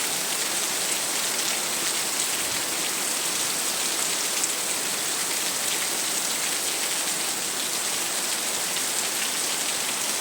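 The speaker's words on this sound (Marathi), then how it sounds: "मुसळधार पाऊस पडायला सुरुवात झालेली आहे." Heavy monsoon downpour falling steadily on surfaces around a house with a tiled roof, a dense, even hiss of rain with scattered drops, continuous and close, with no voices.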